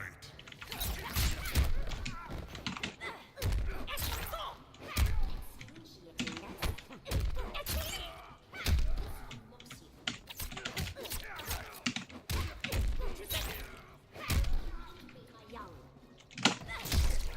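Rapid clattering hits and sharp bursts from a Mortal Kombat X fight against an exploding bug enemy, coming in irregular close bursts with brief pauses between.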